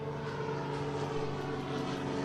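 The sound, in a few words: British propeller plane flying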